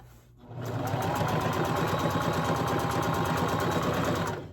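A sewing machine sews a 5/8 inch seam on an American flag quilt top, starting after a short pause and then running in one continuous, loud, fast and even burst of stitching close by.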